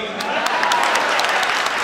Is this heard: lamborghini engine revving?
no